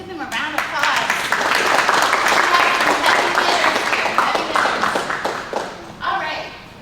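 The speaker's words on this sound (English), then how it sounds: "let's give them a round of applause" Loud audience applause at an entrepreneur panel fills the room with dense, sustained clapping that tapers off near the end, a few voices mixed in.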